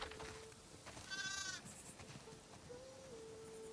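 A single sheep bleats once in The Last of Us Part II, quavering and fairly faint, over a low steady background hum.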